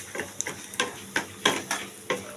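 Bori lentil dumplings fry with bay leaf and tempering spices in a pan of oil, giving a soft sizzle broken by a steady run of light scraping stirs, fairly quiet and close with no voices.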